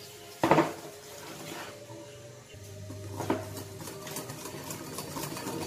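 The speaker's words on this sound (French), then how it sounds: "On verse donc dans les jaunes le sucre et on fait donc le mélange" Egg yolks and sugar whisked in a bowl, a sharp metallic clank followed by a steady whirring, mechanical buzz that continues close by, with faint rattling throughout.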